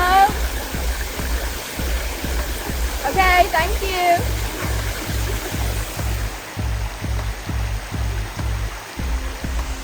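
Jungle waterfall and stream in Malaysia, a continuous close rushing roar of falling water, with brief speech and a short rhythmic chirping sound partway through.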